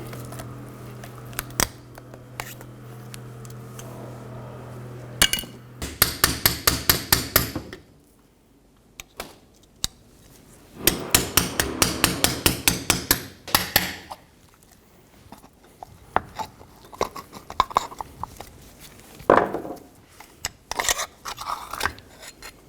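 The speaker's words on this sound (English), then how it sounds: "Using a pair of wire cutters, we're going to cut the clamp off of the boot." Wire cutters snipping and working a CV joint boot clamp on a 2007-2017 Ford Expedition front driveshaft, giving close, sharp metallic clicks and rapid rattling bursts separated by quiet pauses, with no talk.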